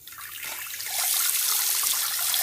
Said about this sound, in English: As you can see, the only water coming out is pretty brown.